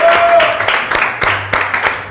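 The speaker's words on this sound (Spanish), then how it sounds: "aquí desde este set le adoramos reverente a Jesús con un aplauso" A studio audience applauds in worship of Jesus on a Christian music programme, a dense, steady wash of clapping that holds loud throughout with a few sharper individual claps standing out.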